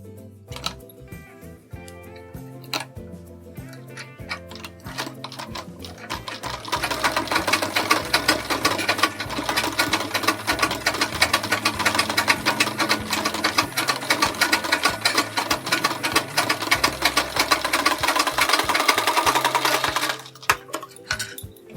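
A sewing machine stitches a sleeve design, starting with slow ticking, then running fast and loud in a steady dense whir for about fourteen seconds before stopping abruptly.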